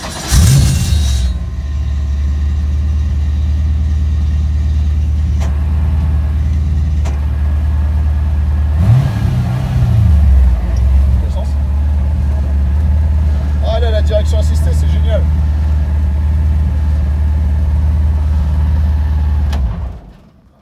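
A Dodge Charger's engine idles with a deep, steady rumble, a brief starter whirr at the start and a swell of revving near the middle, close by, while someone talks over it.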